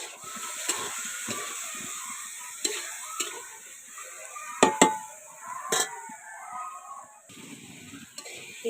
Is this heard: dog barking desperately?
no